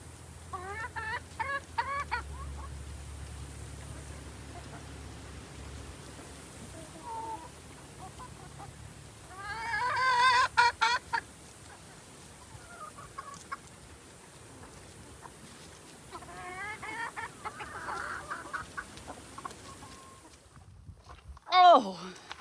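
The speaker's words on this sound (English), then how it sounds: "just gonna look at my chickens for a little bit and admire their beauty" Backyard chickens clucking in short bursts, near and moderately loud, with quieter stretches between calls and some background noise outdoors.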